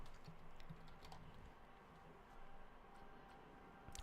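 Keys on a computer keyboard clatter in a quick, quiet burst of typing, close by and alone with no talk.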